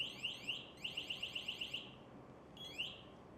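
MSA G1 breathing apparatus control module alarm, a rapid series of high chirping electronic tones in bursts, then a pause and another short chirp, fairly faint.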